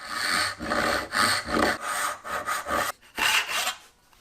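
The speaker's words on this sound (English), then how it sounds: "So I'm just going to start by cutting these tails as usual." A hand saw cutting dovetail tails in wood in quick, rhythmic back-and-forth strokes, close and crisp, about a dozen strokes with a brief pause near the end.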